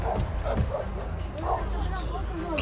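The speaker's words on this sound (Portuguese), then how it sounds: "O cachorro." A dog gives several short yips and barks at close range, amid tense background voices and commotion.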